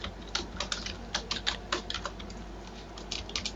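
Someone types on a computer keyboard while entering text in Excel, producing a fast, irregular run of close, crisp key clicks over a low hum, with no voice.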